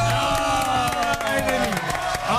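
A studio audience on a cooking show cheers and applauds loudly, with whoops and shouts over the clapping, and music plays underneath the whole time.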